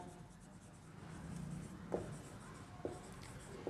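Pen or pencil scratching on paper while writing out a proof that root 3 is irrational, a soft continuous scratching with a few sharper taps, close and quiet, with no talking.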